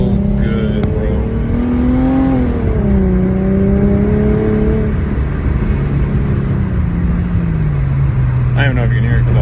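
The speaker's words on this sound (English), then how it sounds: "we did mid pipes back, and it sounds so freaking good" Car fitted with a new mid-pipe-back exhaust, revving and accelerating with a rising and falling engine note through several gear changes. It is heard close up over wind noise, with a few brief bits of voice.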